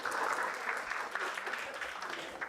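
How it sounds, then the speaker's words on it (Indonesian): A classroom group gives a brief round of clapping, soft and fairly distant, continuing steadily for a couple of seconds. "Aplaus dulu biar tambah semangat ya"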